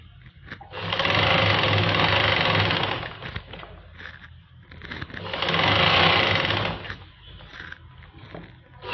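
Two bursts of a domestic sewing machine stitching palazzo trousers, each lasting about two seconds of steady, fast whirring with brief quiet gaps and small handling noises between runs.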